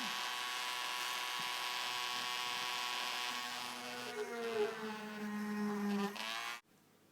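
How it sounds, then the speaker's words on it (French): A Dremel rotary tool drills into synthetic stone with a steady high whine and buzz, then drops in pitch as it bites into the material before cutting off abruptly near the end. "Moi j'ai l'habitude d'utiliser un Dremel. Mais on peut les faire au drill à main, bien entendu."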